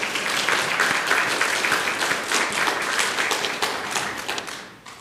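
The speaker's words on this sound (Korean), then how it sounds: "박수로." An audience at a book launch event gives dense, loud applause, many hands clapping together continuously before it tapers off at the end.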